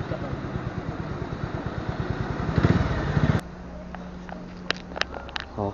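A KTM motorcycle on a road test in Baguio City revs with a pulsing, throbbing engine note that swells before cutting off abruptly, followed by a low steady hum and scattered clicks.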